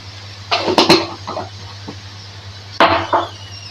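Metal spoon scraping and knocking against a pan while ginger garlic paste is stirred into chopped beans for a bean curry; a few sharp clinks and scrapes in quick bursts, close and fairly quiet, with gaps between.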